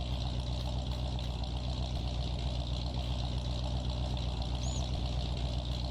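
A truck engine idles in Farming Simulator 19, a steady low mechanical drone that holds evenly throughout with no talking.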